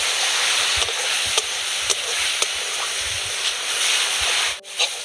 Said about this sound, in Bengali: এবার একটু ভালো করে পেঁয়াজ আর রসুনটা ভেজে নিতে হবে।